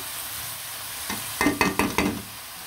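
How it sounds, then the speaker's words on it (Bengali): Red amaranth greens fry in a pan while a spatula stirs them, giving a steady faint sizzle, then a few louder scraping strokes close by toward the end, with no talking. "একদম পানিটা শুকিয়ে ভাজা ভাজা করে ফেলবো শাকগুলা।"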